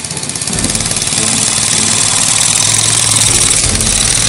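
A Buscadero mini bike engine runs close and loud with a steady buzzing drone that rises slightly after the first half second, heard out in the open near an abandoned uranium mine.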